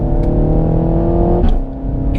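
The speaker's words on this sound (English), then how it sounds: "The valves and the exhaust open up, and we've got some subtle cracks and pops on the overrun." Renault Megane RS hot hatch engine and exhaust revving with valves open, a loud steady drone that drops in pitch partway through, with faint crackles on the overrun.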